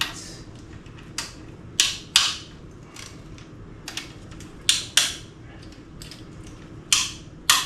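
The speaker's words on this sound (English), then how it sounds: "So now, just a matter of getting the rest of these bolts out." A ratchet with an extension works the bolts out of a 1976 Dodge D100 Adventurer engine, heard as close, sharp clicking strokes in irregular bursts over a low background hum.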